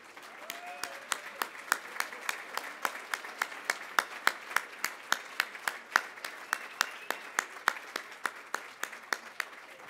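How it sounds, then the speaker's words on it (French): Applause from a banquet audience at a wine festival lunch honouring the organising committee, rendered as a steady run of individual claps with a few sharper hand strikes standing out, moderately distant and continuous. "pour une main d'applaudissements bien méritée"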